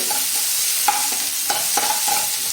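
Chopped onion and garlic sizzle in hot oil in a pan, a steady bright crackle broken by repeated scraping strokes of a spoon, close up with no voices.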